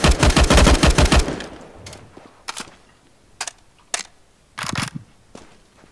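Rapid burst of Counter-Strike gunfire, loud and close at first, followed by several isolated single shots spaced out over the next few seconds.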